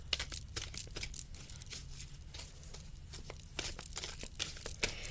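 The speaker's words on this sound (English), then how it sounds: "Just going to give my cards a good shuffle here." Tarot and oracle cards being shuffled by hand, a rapid run of crisp papery riffles and flicks in irregular bursts, close and fairly soft, with no talking over them.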